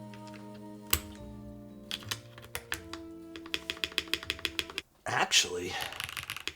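A Smurve80 mechanical keyboard fitted with a milky yellow spacebar switch clacks under a burst of close, crisp keystrokes, some sharp spacebar thocks among them, and a brief spoken word partway through.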